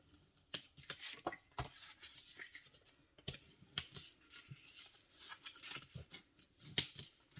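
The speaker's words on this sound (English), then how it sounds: "now we're going to burnish all the score lines" Card stock being burnished along its score lines: a run of short, sharp scraping and rubbing strokes in an irregular rhythm, close and fairly quiet with no voice.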